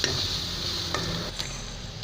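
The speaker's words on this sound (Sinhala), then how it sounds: "දැන් මම මේකට අපේ කහ තේ හැඳි කාඩ් එකතු කරගෙන හොඳට කහ පාට වෙනකම් මේ විදිහට කවලම් කරගන්නවා" Turmeric stirred into hot oil in a pan for Sri Lankan yellow rice gives a steady close sizzle, with a few sharper scrapes of the spoon against the pan.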